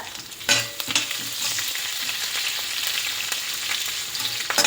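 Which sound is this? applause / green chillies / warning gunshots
green chillies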